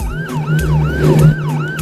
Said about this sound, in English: And even have siren sounds and everything.